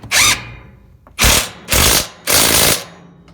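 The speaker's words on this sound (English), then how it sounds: "So after you get all the bolts in with all the nuts on, just tighten them all down." Bolts are tightened on the roll cage of a 2020 RZR, four loud close bursts of a power tool whirring and rattling, each about half a second, separated by short pauses.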